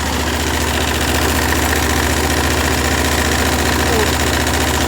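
A heavy walk-behind tractor on chained wheels idles while warming up and charging its battery, a loud, steady, throbbing engine drone with a constant rhythmic pulse close by.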